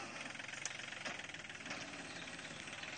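Tractor engine with large chopping knives mounted on the back, working a rice paddy on a farm; a steady, loud mechanical drone with rapid pulsing throb throughout, no voices.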